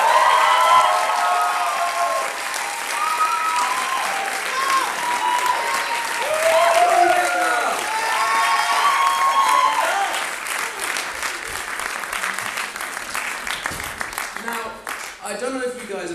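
A live audience at an impressions comedy performance applauds, with sustained, dense clapping that holds steady before thinning and fading near the end.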